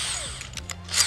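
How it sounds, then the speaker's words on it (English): A power drill with a half-inch bit runs briefly into a scrap piece of wood, a short whirring burst with a pitch shift as the bit bites, heard close and alone. "I'm going to start with a 1/2 inch drill bit."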